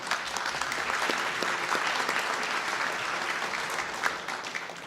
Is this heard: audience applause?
yes